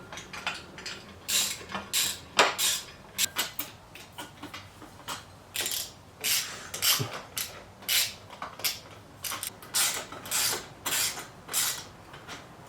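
A ratchet tightens exhaust bolts on a 2020 Harley-Davidson Low Rider S, giving close, crisp clicking in repeated short bursts with brief pauses between strokes and no voices.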